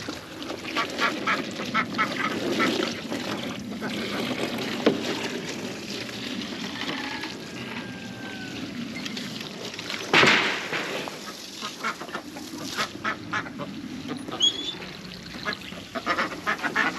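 Pekin and female mallard ducks quack repeatedly at close range through the whole stretch, with a brief louder burst of noise partway through.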